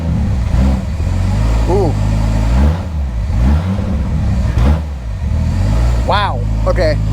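A stock Toyota MK3 Supra engine runs on a standalone ECU, idling loud and close with an uneven, rich-sounding rumble and small rises in revs, while someone speaks over it.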